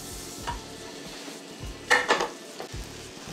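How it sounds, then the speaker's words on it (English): Bread toasting in melted butter in a pan gives a faint continuous sizzle, broken by a few clinks and scrapes of a utensil against the pan, close by, with a quiet low rumble underneath. "So just melt some butter. We're gonna toast the bread."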